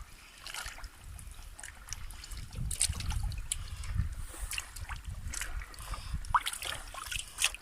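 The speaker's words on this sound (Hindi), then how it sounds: "इसको हम ज़रा धो लेते हैं बिल्कुल छील के पानी से" Tap water trickles and splashes unevenly as pieces of raw chicken are rinsed by hand for a chicken karahi, with irregular dribbles and light handling sounds close by.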